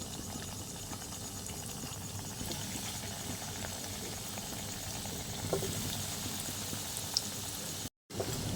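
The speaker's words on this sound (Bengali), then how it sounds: "আমি এবার একে একে ফিশ রোলগুলো দিয়ে ভেজে নেব" Fish rolls frying one after another in hot oil in a wok, giving a steady bubbling sizzle that runs unbroken and fairly close, with no voices over it.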